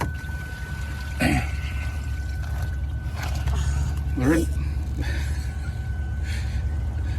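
A camper's black water tank, the toilet waste, drains through the large waste pipe in a steady rushing flow with brief gurgles, continuous throughout at moderate level.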